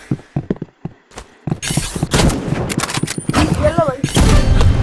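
Gunfire rings out in the Roblox game Rivals: scattered single shots at first, then loud rapid bursts with thumps and game effects, while a player's voice talks excitedly over them.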